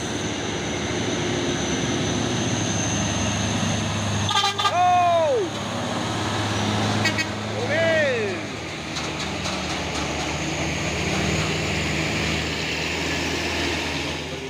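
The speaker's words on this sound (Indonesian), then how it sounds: "Truk trailer kontainernya Hino Chamber Euro 4" A Hino Chamber Euro 4 container trailer truck carrying an 18-ton load runs with a steady heavy engine drone, while a couple of brief voices speak over it.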